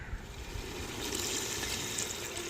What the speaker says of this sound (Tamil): இந்த மசாலையோட நம்ம அளவு தண்ணி சேர்த்துக்கிறோங்க.